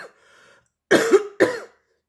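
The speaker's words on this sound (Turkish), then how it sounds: "Öksürüğüm devam ediyor." Two sharp, close coughs from a person with a lingering cough while recovering from Covid, coming one after another with a short pause between them, after a quiet, faint murmur.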